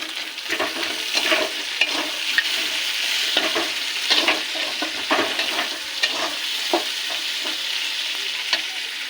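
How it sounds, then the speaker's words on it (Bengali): Split green chillies and chopped tomatoes fry in a pan for a fish-head moong dal, giving a crackling sizzle broken by repeated irregular stirring scrapes, close and moderately loud. "একটু ভাজবো আর দিয়ে দেবো চেরা কাঁচা লঙ্কা, টমেটো কুচি।"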